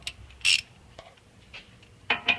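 Clicks and short metallic ratcheting bursts come from tightening a sway bar link on a BMW M3 E46 front suspension, a few separated close-up strokes with quiet pauses between them.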